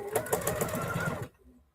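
A sewing machine stitches quilt blocks in a fast, steady mechanical patter for just over a second, then abruptly stops, leaving near silence.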